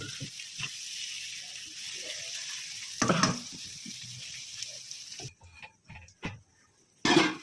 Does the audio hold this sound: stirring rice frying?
yes